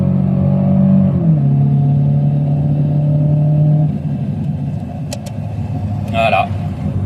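An automatic Citroën Xsara engine drones loudly from inside the car, its pitch sliding as the gearbox shifts, then settling into a lower, steadier hum with a few brief clicks and a short voice near the end.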